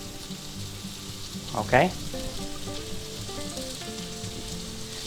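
Precooked ham heating in a pan gives a steady, soft sizzle with one brief louder crackle and spatter, while a voice speaks briefly.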